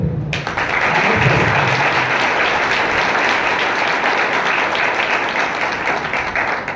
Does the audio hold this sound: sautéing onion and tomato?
no